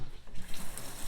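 Water runs and splashes steadily in a sink as excess sand is rinsed off the outside of a Siro maple syrup filter, a close, continuous wash with no voices.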